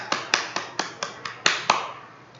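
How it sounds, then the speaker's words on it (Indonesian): Eight sharp hand claps in a steady rhythm during an online class, close and fairly quiet, the last one fading out. "Baiklah, tepuk tangan anak-anak."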